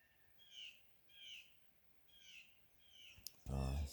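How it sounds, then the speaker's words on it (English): Birds call in a forest, four faint rising whistled notes repeating at regular intervals, followed by a short loud rustle close by. "Sounds in the forest are so lovely."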